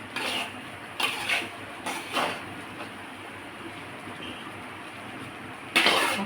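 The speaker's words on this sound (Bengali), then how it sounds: "ভাতটাকে আমি ভালো করে হালকা হাতে আস্তে আস্তে মিশিয়ে নেব" Rice pulao is stirred gently in a pan over low flame, giving soft intermittent scraping and clinking bursts separated by quiet pauses, fairly faint.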